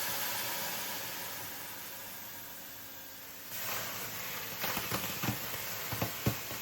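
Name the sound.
steam from boiling water poured into oven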